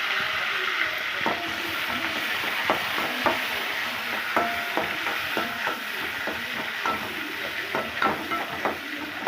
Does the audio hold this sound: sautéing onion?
yes